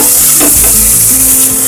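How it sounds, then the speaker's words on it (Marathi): Masala paste (vatap) for masale bhat sizzles and is stirred in a hot pan, a loud, close, steady frying hiss with scraping stir strokes, no talking. "आता हे आपण चांगलं परतून घ्यायचंय. वाटपाचा कच्चेपणा जाईल तोपर्यंत आपण हे चांगलं परतून घेऊ."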